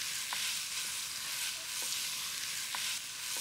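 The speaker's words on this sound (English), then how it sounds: "Now that my onions are beginning to sweat" Onions, garlic and ginger sauté in a pot for doro wat, a continuous soft sizzle with a few light stirring taps, no talking.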